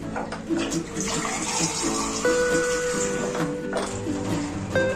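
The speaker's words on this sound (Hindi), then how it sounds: "एक बड़ा मग्गा भरकर मैं पानी का इसमें ऐड कर रही हूँ" Water pours from a mug into a pressure cooker holding beef, making a continuous close splashing and gurgling with shifting pitch as the pot fills.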